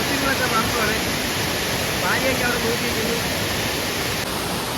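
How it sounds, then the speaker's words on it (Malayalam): A steady, dense roar of rushing water continues without a break, loud and constant like a waterfall close at hand. "വെള്ളച്ചാട്ടത്തിന്റെ മേളിലാണ് നിൽക്കുന്നത്"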